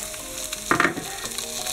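Bell pepper added to onion frying in a pan, with sizzling throughout and a brief louder burst of hiss and stirring near the start, then a steady sizzle.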